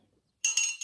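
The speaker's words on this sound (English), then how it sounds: "this is a reusable straw," A reusable stainless steel straw clinks against a glass, a bright metallic rattle that starts abruptly after a moment of silence and continues for half a second.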